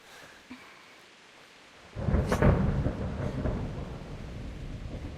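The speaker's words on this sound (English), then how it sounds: "Not afraid of thunderstorms, are you?" Thunder rolls through a rainstorm in the video game Kingdom Come: Deliverance, a quiet patter of rain suddenly swelling into a loud, rumbling thunderclap that lingers over steady rainfall.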